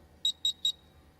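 Three short, evenly spaced electronic buzzer beeps at a quiz competition final, crisp and moderately loud over a quiet room hum, with no talking.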